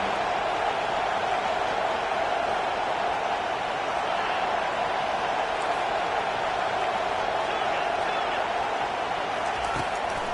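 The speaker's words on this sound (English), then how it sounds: "Decibels rising as the crowd gets behind this defense on 3rd down." Crowd roar at a college football stadium as fans cheer the defense on third down, a loud, sustained wall of noise that holds steady throughout.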